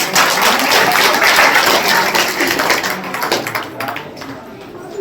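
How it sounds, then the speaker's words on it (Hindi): An audience at an Ambedkar Jayanti gathering claps loudly in a burst that gradually thins out over a few seconds. "मैं जोरदार तालियां चाहूंगा।"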